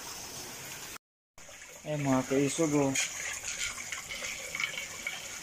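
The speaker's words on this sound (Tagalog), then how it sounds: "Nag-overflow yung tubig dun sa bangbang sa bukid. Kaya dito pumasok sa amin." Floodwater from an overflowing field channel pours into a house during Typhoon Paeng, a steady rushing gush under a person speaking, after a brief dropout in the sound.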